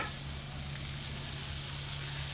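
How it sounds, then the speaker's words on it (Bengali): Palm-fruit rosbora fritters fry in hot oil while being stirred constantly with a light hand, a steady, even sizzle with soft low bubbling underneath, close and continuous, no talking. "এবার এভাবে করে অনবরত নাড়াচাড়া করে হালকা হাতে লাল লাল করে ভেজে নিতে হবে"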